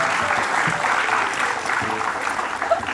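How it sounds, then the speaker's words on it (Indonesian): A studio audience claps for a young magician on an Indonesian talk show, a brief burst of continuous crowd applause, fairly close and loud, heard alone. "tepuk tangan untuk Mas Dedi dong"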